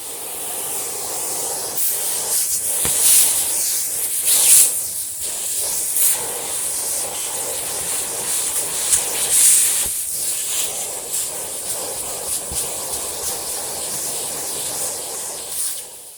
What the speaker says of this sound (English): I think we should get all of that vacuumed out to make it look a lot cleaner than it currently does.